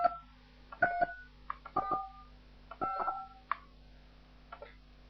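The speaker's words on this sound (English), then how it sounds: "I'm going to dial 2345 just to see what happens" Telephone keypad tones sound as the digits 2345 are dialed into a phone queue system. Several short, clear two-tone beeps come at uneven intervals, close and alone over a faint steady hum.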